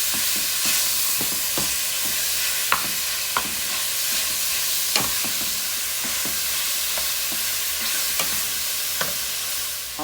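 Ground beef cooks in a pan for Haitian-style macaroni gratinée, giving a steady close sizzle broken by scattered stirring scrapes and clicks. There is no talking.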